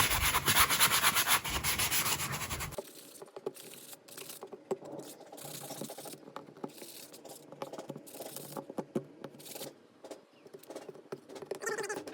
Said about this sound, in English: Sand down these rough spots around the screw heads and any other rough spot that we can.